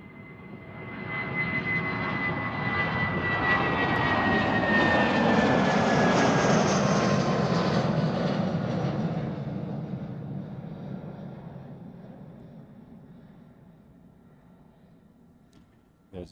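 British Airways jet airliner arriving at Amsterdam Schiphol, swelling from a distant rumble into a loud whining roar as it passes, then slowly fading away over about sixteen seconds.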